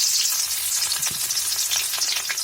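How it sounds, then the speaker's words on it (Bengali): Chopped onion with five-spice seasoning fries briskly in a wok, a loud, close, continuous hiss of sizzling oil with faint stirring scrapes and no talking. "ভালো করে লাল করে ভেজে নেব।"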